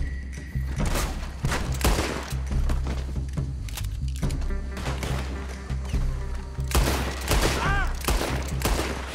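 Repeated gunfire from Red Dead Redemption 2 gameplay, with dense volleys of shots and thuds that come in clusters across the whole stretch and stay loud and close throughout.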